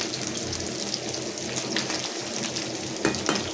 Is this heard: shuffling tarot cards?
no